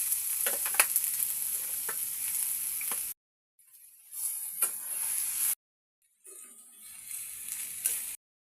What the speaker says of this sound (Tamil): சூடான பிற்பாடு இந்த கத்திரிக்காவை நல்லா வதக்கிக்கொள்ளும்.